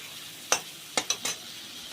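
Fried potatoes are tipped into a hot pan for rui fish curry and stirred in a soft, steady sizzle, with four sharp spoon clinks against the pan; no voices are heard.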